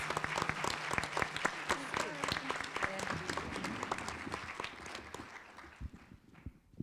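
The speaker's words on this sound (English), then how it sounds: "So let's give her a very warm North Carolina round of applause." Audience applause at a fair housing summit in North Carolina, sustained clapping from a sizeable crowd that fills the room for several seconds before thinning out, with some voices mixed in.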